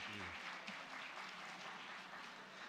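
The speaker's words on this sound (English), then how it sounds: "Can we have a big round of applause to these panel members" A conference audience of chartered accountants applauds the panel members, a steady wash of many hands clapping that carries on throughout at a moderate distance.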